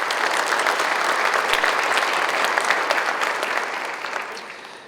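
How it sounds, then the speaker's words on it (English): An audience at a state summit claps in sustained, dense applause from start to finish, fading slightly near the end. "a round of applause for you"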